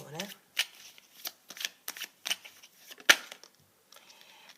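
Tarot cards, a goddess-themed deck, are shuffled in a run of quick riffling bursts, close and crisp, with brief gaps between flurries and faint talk nearby.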